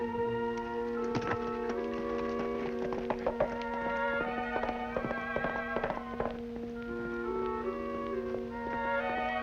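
Rapid hoofbeats clatter over a steady musical drone, an irregular drumming of galloping horses mixed with bright tones.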